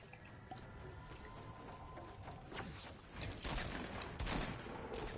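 Video game gunshots in a shooter match, a few faint scattered shots building to a louder cluster of cracks near the end, with no voices over them.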